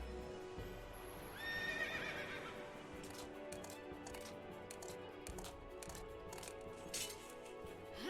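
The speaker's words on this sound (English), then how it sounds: "And the mount for Lightning is a horse" A horse, the mount in the Final Fantasy XIII video game, lets out a clear whinny early on, followed by clip-clopping hooves and game sounds over the rest of the clip.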